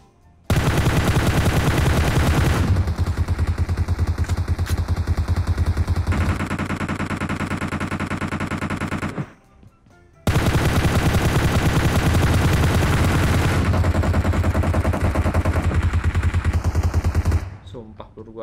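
Long bursts of automatic rifle fire spraying continuously in PUBG Mobile, loud and close, with a brief gap of silence before another sustained burst that trails off at the end.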